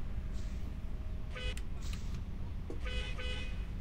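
A car honks repeatedly behind a truck in Euro Truck Simulator 2, two bursts of short toots over a steady engine rumble.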